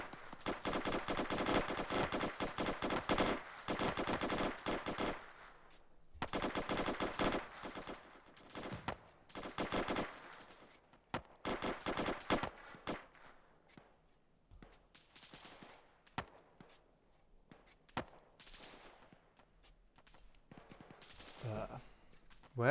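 Sustained automatic gunfire from rifles and machine guns in a military simulation game, loud bursts for several seconds that thin out into scattered distant shots, with voices talking over the action.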